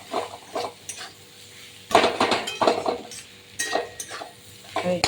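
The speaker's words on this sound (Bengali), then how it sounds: "এবার নেড়ে চেড়ে নামিয়ে নেব।" Cabbage fry with fish roe, potato and green chilli gets stirred in a pan: bursts of scraping and clinking from the spatula against metal, separated by quieter gaps, over a low sizzle.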